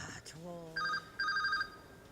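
An indoor telephone rings in two short electronic trills, fairly close, before being picked up, with a voice before the rings.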